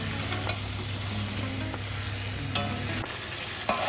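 Chicken pieces fry in spice masala without water, a close steady sizzle with a low hum and a few sharp spatula clicks against the pan, no talking.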